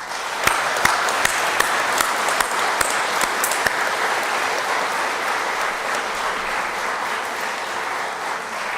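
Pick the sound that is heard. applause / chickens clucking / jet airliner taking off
applause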